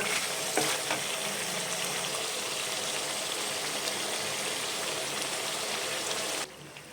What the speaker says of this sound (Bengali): এবার হালকা হাতে মাংসটা নেড়ে দিয়ে ভিজে ভিজে রান্না করব।